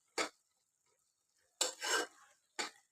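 Tomato chutney is stirred in a pot with a metal spoon, giving three short scraping strokes: a quick one, then a longer double sweep, then another brief scrape, with quiet pauses in between.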